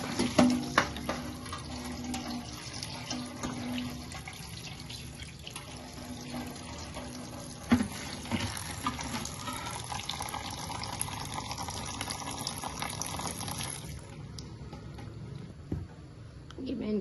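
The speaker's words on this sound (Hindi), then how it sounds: "अब मैं इन पे ठंडा टैप वाटर जो है वो इन पर से गुजारूंगी" Cold tap water runs steadily from a faucet over boiled lasagna sheets in a kitchen sink, a continuous splashing hiss with occasional clatters, fading out near the end.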